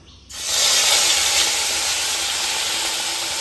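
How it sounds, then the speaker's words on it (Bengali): Poa bhola fish dropped into hot oil bursts into a loud, steady hiss that begins abruptly and holds as a dense near sizzle, with no talking. "আমি মাছটাকে দিয়ে দেব তেলের মধ্যে"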